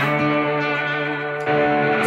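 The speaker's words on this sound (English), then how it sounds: "Slide with a bit of overdrive." Sustained electric guitar tone with gritty overdrive, notes held and gliding smoothly with a slide, fairly loud and steady throughout.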